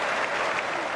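Loud, dense applause and cheering from a big cricket crowd at Lord's for a boundary in England's final against Australia, a steady wall of clapping and roar with no gaps.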